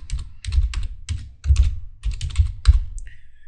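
Someone types a folder name on a computer keyboard while setting up FTP uploads, producing close, crisp clusters of key clicks in quick bursts with short gaps and a final lighter tap, no voices.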